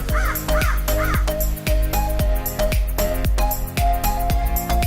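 A crow caws a few times near the start, heard over a rhythmic musical backing with steady beats, in a children's animated story.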